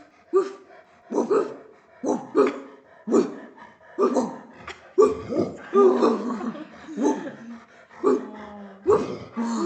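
Dog barking in repeated short yips and whimpering barks, close and fairly loud, coming in a steady irregular series with breathy pauses between bursts.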